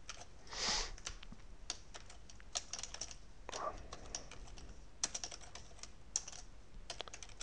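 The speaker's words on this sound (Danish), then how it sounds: "Så lige med at få tastet det hele rigtigt." Quiet tapping on a computer keyboard while entering a function into Mathematica, uneven bursts of key clicks with short pauses, near and soft, without speech.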